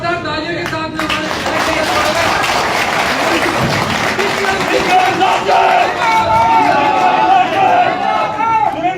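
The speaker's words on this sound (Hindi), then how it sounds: "एक बार जोरदार तालियों के साथ में" Loud, sustained applause and cheering from a crowd at a political ceremony where a new municipal council chairman takes office, with shouts and a voice speaking over the clapping throughout.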